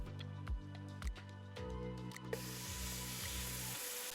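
Onions drop into hot olive oil with spluttering cumin seeds and set off a sudden steady sizzle partway through, a broad close hiss that runs on under light background music.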